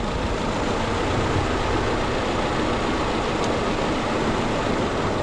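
A wagon engine idles with the number 3 coil pack unplugged, a loud, steady, rough rumble at close range with no talk over it.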